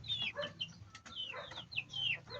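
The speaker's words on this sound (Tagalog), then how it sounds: "So may sumisilip ng sisiw." Newly hatched chicks peeping high and thin close by among a hen's soft, low clucking, a continuous busy chatter from a nest box.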